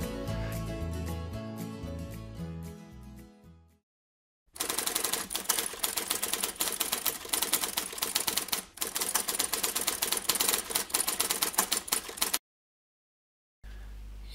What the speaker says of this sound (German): Jetzt brauchen wir nur noch den passenden Schreibmaschinen-Effekt als Sound.